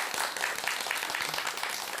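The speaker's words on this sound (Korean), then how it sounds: "박수가 너무 가식적인 것 같아요" An audience at a Buddhist monk's talk breaks into applause, a steady wash of clapping hands from a small crowd, moderately close, with no talk.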